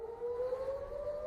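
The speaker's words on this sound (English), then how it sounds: "I hear sirens." A siren wails faintly in the distance, a single sustained tone rising slightly in pitch, with no voices.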